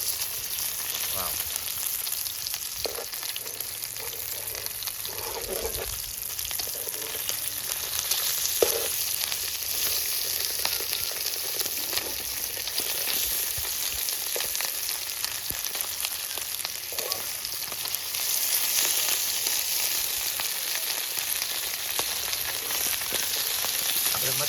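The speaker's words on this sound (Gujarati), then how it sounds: "તો આપણે એક પડખું જો મસ્તીનું તળાઈ ગયું છે" Kati fish frying in a pan gives a steady, continuous sizzle, bright and even throughout, with a brief swell of louder crackling near the end.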